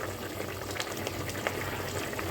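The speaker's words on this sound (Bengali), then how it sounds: "ভালো করে ফুটবে পরিমাণ মতো মাপ মতো ঝোলটা রেখে" Hilsa fish curry gravy bubbling steadily in a pot, a soft continuous simmer with faint bursting pops close by, no talking.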